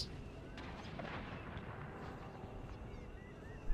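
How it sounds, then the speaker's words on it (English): Cannon fire from a naval or land battle in a Netherlands imperial strategy game, a dense rumble of overlapping booms rolling continuously with a sharper burst at the very end. "they're just being target practice for my cannons"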